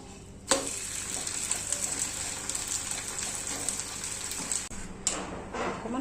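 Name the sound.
frying in ghee in a pan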